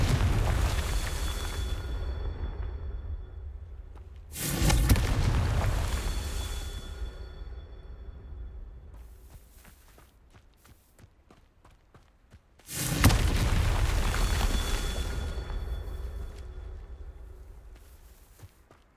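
Two heavy explosions from the Confringo fire-blast spell in the video game Hogwarts Legacy burst about eight seconds apart, each a loud booming blast that fades into a long rumbling tail amid quieter game ambience.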